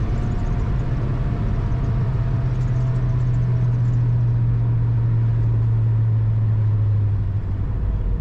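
A 1972 Pontiac Grand Prix SJ cruises along with a steady low engine drone and road rumble. The hum holds even for most of the stretch, then eases slightly near the end. No one speaks.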